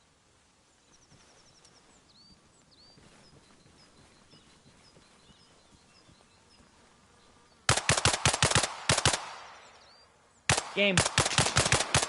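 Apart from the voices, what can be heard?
gunfire in video game Arma Reforger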